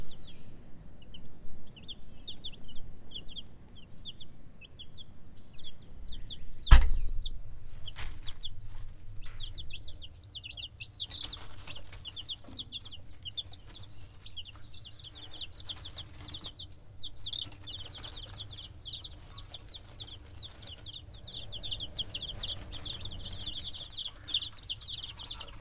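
A batch of Golden Comet chickens clucks and cheeps in a rapid, continuous stream of high chirps, with a sharp knock near the start and low background rumble.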